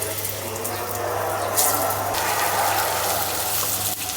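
Dishes are washed in a kitchen under a steady, close stream of running tap water, with a constant rushing hiss and occasional light clatter and splashes throughout.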